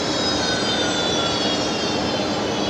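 A specially liveried Fokker airliner taxis onto its bay at Brisbane Airport at night, giving off a loud, continuous engine roar with a high, even whine held throughout. No voices are heard.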